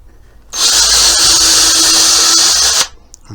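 A single continuous burst of a high-pitched power drill whirring for about two seconds, loud and close, starting and stopping abruptly.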